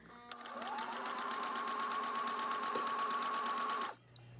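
A sewing machine stitches the hem of a ribbon skirt in one steady, fast run of even needle strokes lasting several seconds, close and fairly loud with no talking, then stops abruptly.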